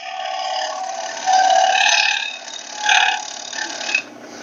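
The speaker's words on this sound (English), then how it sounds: "When I get out here, I'm going to get some noise and vibration" A dry ash blank spinning on a wood lathe as a tool approaches, giving a steady close rasping hiss with surges of harsher chatter and vibration.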